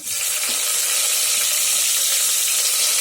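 Onion and green chilli frying in hot oil give a steady, loud, close sizzle that hisses evenly throughout, with no talking.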